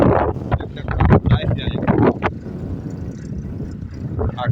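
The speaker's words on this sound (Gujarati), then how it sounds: "પવન બહુ છે." Strong wind sweeps through a five-year-old mango orchard where local manure has been spread, buffeting the microphone with a gusty low rumble; people talk over the first half before the wind carries on alone.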